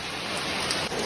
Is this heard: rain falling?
yes